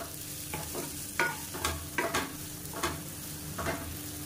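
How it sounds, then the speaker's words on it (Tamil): Crumbled idiyappam string hoppers tossed in oil in a pan, a quiet sizzle under repeated scraping stirs that come in uneven clusters of about eight strokes, close and with no voices. "இப்போ நம்ம வந்து உருத்து வச்சிருக்கிற அந்த இடியாப்பத்தை சேர்த்துக்கலாம் நல்லா பரட்டி விட்டுக்கலாம்"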